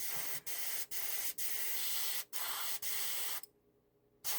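An airbrush spray gun hisses paint, unthinned straight from the bottle, onto a 1/32 scale Trumpeter TBD Devastator model engine, in close steady bursts cut by brief pauses, then a short silence before it resumes.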